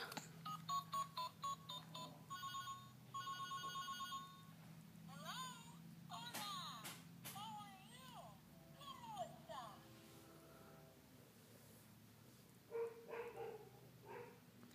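A toy flip phone plays a series of bright, beeping electronic tones and short melodic chirps in bursts, with a baby's babbling and adult voices mixed in.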